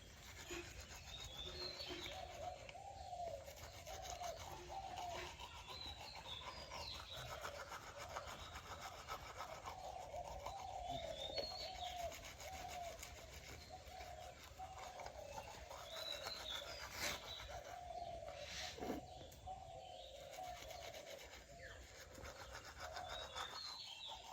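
Toothbrush scrubbing teeth in a quiet morning room, a faint rhythmic rubbing and scratching that repeats in short strokes, with soft birdsong in the background and no talking.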